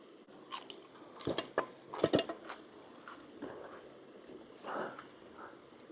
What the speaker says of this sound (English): A wee snack, parsnip fries. I'm eating them out of this because it's still warm.